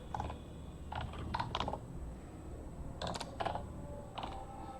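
Keys tapped on a computer keyboard while entering a Google image search, heard in several short bursts of quick clicks across a quiet room, with no one talking.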